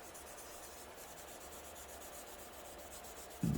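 Sanding sponge rubbing steadily over painted plastic on a model car body, a soft continuous scratchy hiss that stays even throughout, with a brief louder scrape at the very end.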